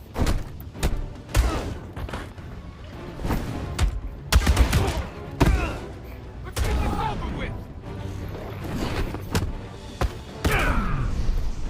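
Gunfire in the video game Batman: Arkham Shadow, a rapid series of loud, sharp shots and thuds in irregular bursts, with game voices and action sounds between them.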